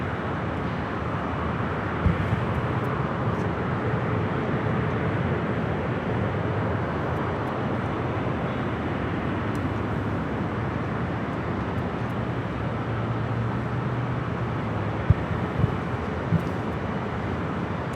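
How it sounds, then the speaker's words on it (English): Hawaiian Airlines flight 9 departing LAX for Honolulu, a steady distant jet roar rumbling evenly throughout with a few faint clicks, no voices. "that is Hawaiian flight 9 heading to Honolulu"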